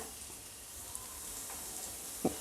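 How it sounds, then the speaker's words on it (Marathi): Chopped onions and chilies frying over a high flame give a steady, quiet sizzle with soft crackles and one brief stirring knock near the end, and no voices. "हाय फ्लेमवर आपण याला फक्त एक ते दोन मिनटाकरता फ्राय करून घेऊ"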